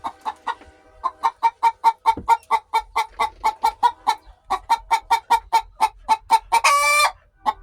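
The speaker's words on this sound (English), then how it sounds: "So there's the chickies." Hens cluck in a steady run of short, rhythmic calls close by, building to a louder, brighter burst near the end like an egg song, with no talk over it.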